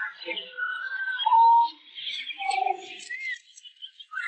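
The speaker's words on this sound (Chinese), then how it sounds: "随后无数只飞鸟铺天盖地地向方舟入口冲去" A dense flock of birds streams toward the ark in a horror film scene, with chirps and high whistling calls overlapping across the stretch, loud and close, alongside some voice-like sounds.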